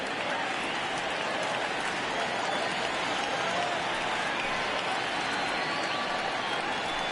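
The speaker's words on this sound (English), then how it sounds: "I can hear the crowd murmuring now, wondering if he hit him on purpose." In a PS4 baseball video game, a stadium crowd murmurs as a steady, even wash of noise that carries through the whole stretch without breaks.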